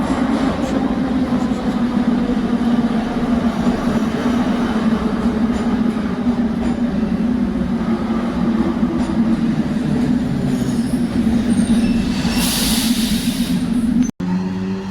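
A Kharkiv metro train rumbles steadily along the track, loud and continuous, with a brief hiss of air near the end.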